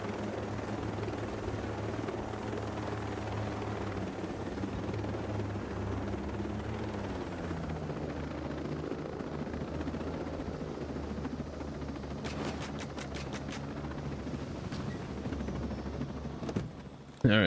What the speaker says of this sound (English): I also have a brand new chopper now.